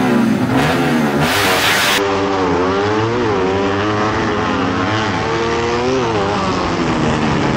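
Pushrod bracket drag cars at a legal drag race strip rev their engines hard at the launch line, a loud, sustained roar with rising and falling pitch that fills the whole stretch.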